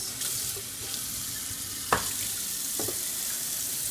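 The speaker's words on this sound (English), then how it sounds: "we're going to come over here towards the sink, and we're going to just use the cold water" Cold water runs from a kitchen sink tap into a measuring cup as a steady close hiss, with a few clinks and knocks, and no talking.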